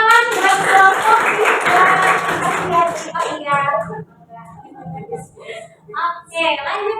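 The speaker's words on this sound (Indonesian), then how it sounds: "Tepuk tangan buat kelompok" A class group claps together over lively chatter and voices, the applause fading after a few seconds while people keep talking.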